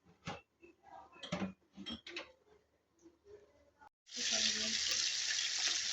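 Clinks and scrapes of a cooking pot give way to water streaming steadily from a tap into the pot, a loud continuous splashing pour over the last two seconds.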